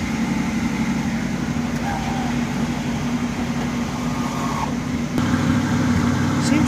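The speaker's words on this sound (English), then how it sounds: "A little bit of chugging there in the tailpipe that probably could stand to be tuned up" A 1972 Oldsmobile Cutlass convertible engine idles steadily with a low, uneven chugging from the tailpipe, close and continuous, with a louder burst near the end.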